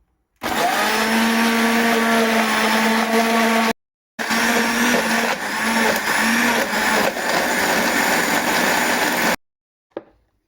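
An electric blender grinds peri peri chicken marinade ingredients in loud, steady bursts, briefly stopping and restarting before cutting off, with a short clatter at the end.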